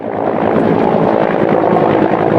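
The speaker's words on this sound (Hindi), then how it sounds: "रेस्क्यू ऑपरेशन में हेलीकॉप्टर्स का इस्तेमाल भी किया जा रहा है" Helicopters working over a forest fire during a rescue operation give a steady, loud broadband roar with a churning rotor texture, continuous and close throughout with no voices.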